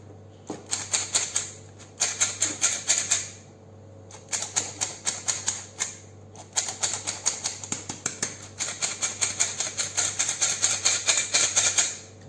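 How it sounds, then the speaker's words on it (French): Dry powders being sifted for a chocolate sponge cake, heard as bursts of quick, rhythmic tapping and rattling from the sieve, repeated in several runs with short pauses between them, close and fairly quiet. "on va venir tamiser nos poudres"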